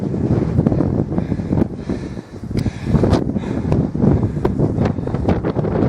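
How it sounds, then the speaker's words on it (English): Strong wind roars and buffets continuously on the summit of The Cheviot, gusting hard against the microphone with a deep rumbling rush and no talking. "Very windy."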